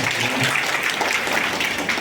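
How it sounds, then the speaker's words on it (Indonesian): An audience at a school enrollment briefing applauding, dense steady clapping that fills the whole stretch at an even, loud level. "Tepuk tangan dulu apresiasi hari ini."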